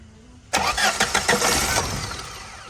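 A Tata diesel engine with a faulty injector cranks and catches abruptly, then runs rough and uneven with irregular knocking pulses, close and loud, settling into a shaky idle.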